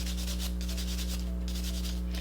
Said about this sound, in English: I'm gonna go ahead and use the Suzies sanding sponge just to go over the nails